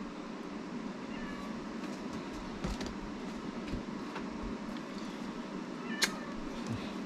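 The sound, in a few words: cat meowing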